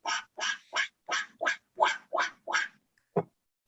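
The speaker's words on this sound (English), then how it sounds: "It kind of sounded like quacking" A series of nine nasal, raspy duck quacks in quick rhythmic succession, loud and close, followed by a short pause and one lower final quack, with no talking.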